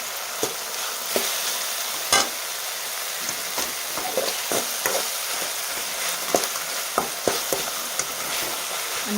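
Tomatoes frying in oil in a pan, a dense continuous sizzle close up, broken by occasional sharp spatula scrapes and taps.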